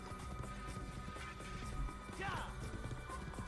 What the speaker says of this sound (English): Horse fighting